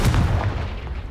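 A fiery Confringo spell explosion in Hogwarts Legacy, a loud, close, booming blast that rumbles and then fades over about a second.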